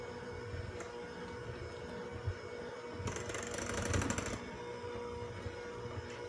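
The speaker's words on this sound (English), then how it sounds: "I always use my mixer to make sure it's good and well mixed all the way through and thoroughly" An electric hand mixer whirs steadily through thick no-bake chocolate cheesecake filling, a continuous motor hum that grows busier and brighter for about a second in the middle, with no talking.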